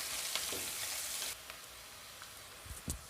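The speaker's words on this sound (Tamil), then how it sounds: "வெங்காயத்தை ஆட் பண்ணி விட்டு அதையும் நல்லா வதக்கி விட்டுருங்க" Chopped onion sautéing in hot oil in a pan for a bamboo shoot stir-fry, a bright sizzle that drops off partway as stirring scrapes and taps sound close by.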